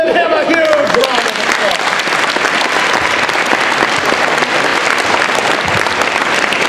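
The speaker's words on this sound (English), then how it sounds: "Give him a huge round of applause" A high school audience bursts into loud, sustained applause for a student at an anti-bullying assembly, dense clapping filling the room throughout, with a voice briefly audible at the start.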